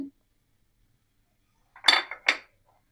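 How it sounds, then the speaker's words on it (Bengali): Beef being mixed by hand with salt, turmeric, chilli powder, ginger-garlic-cumin paste, chopped onion and spices, heard as two short clinking, scraping bursts against a bowl near the end after a long silence. "হলুদের গুঁড়া পেঁয়াজ কুচি সব কিছু এখন মেখে নেব"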